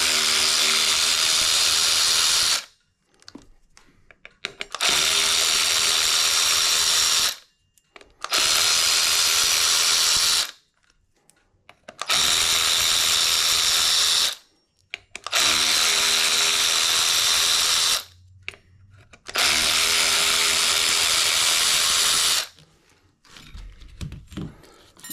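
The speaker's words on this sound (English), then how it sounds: "so that way I can use a power tool without stripping them" Power tool loosening corroded bolts on an Inmotion RS electric unicycle runs in six loud, close, high-pitched whirring bursts of a few seconds each, separated by short quiet gaps.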